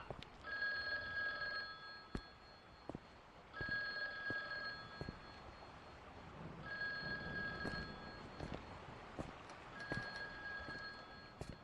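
A telephone rings in the horror game The Guest, repeated long trilling bursts with short gaps, quiet and set against low ambient noise and occasional sharp clicks.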